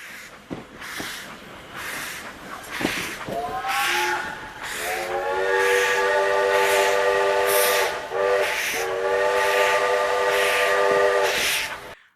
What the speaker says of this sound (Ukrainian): Ось на цьому гарному потязі ми будемо відправлятися в подорож